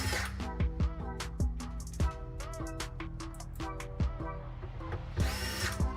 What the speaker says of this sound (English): Put in our 2 bottom screws here.